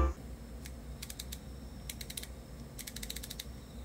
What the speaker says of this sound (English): set your aperture and have a nice click tactile feel